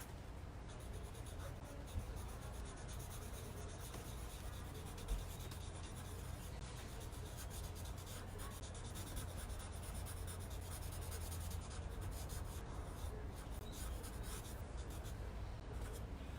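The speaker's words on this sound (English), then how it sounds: "then hand off the Sharpie to Click-Lo" A Sharpie marker scratches over paper while tracing and colouring in a watercolor monkey painting, a continuous close rubbing with short repeated strokes and brief pauses, with no voices.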